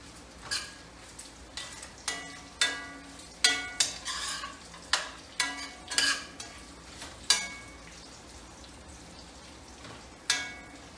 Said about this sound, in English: Excuse me while I stir the bacon.